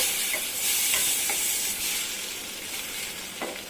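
Tomatoes with salt sauté in a pan for urad dal tomato chutney, giving a steady close sizzle and hiss with soft scraping stirs, no voices.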